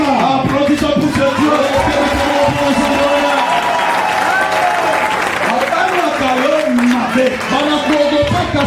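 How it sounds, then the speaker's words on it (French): A church congregation applauds loudly and steadily throughout, the dense clapping blended with voices, singing and crowd noise close by. "Applaudissons pour ce Dieu"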